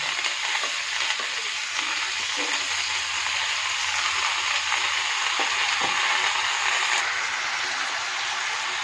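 A spice paste of ginger, chili and garlic fries loudly in a pan with turmeric, chili and cumin powder and salt, giving a constant dense sizzle and occasional scraping stir strokes. No one speaks.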